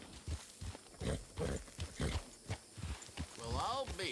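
Hooves of a walking horse clip-clop in irregular beats in a western roleplay video game, with muffled vocal sounds mixed in and a short whinny-like cry near the end.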